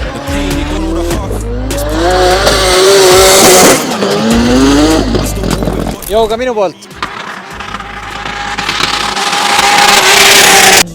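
Drift cars at a season-opening drift competition in Finland scream through long tyre squeals and skids over revving engines, loud and close with several passes, while someone speaks over the noise.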